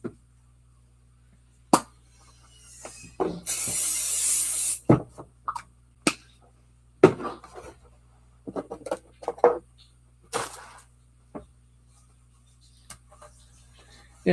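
A single hissing burst of spray onto a stencil craft, about a second and a half long, surrounded by scattered taps, clicks and handling noises of craft supplies at close range.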